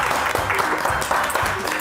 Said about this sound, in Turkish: Bir alkış alalım tekrardan